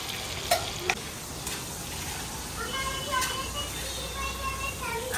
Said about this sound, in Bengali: আর এই যে আগে থেকে কেটে রাখা ধোয়া আলু এর মধ্যে দিয়ে দিলাম, হলুদ গুঁড়ো আর একটু লবণ।